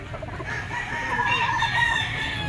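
An 18-month-old Jogood Gray bull stag rooster lets out a single long crow, close and loud over a low rumbling background, with no one talking.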